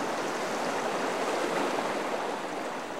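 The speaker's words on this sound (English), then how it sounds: "Gentle Geneseo Creek became a raging torrent in a matter of minutes." A flooded Geneseo Creek rushes as a raging torrent after heavy rain, a loud, steady broadband roar of churning water that holds constant throughout with no voices.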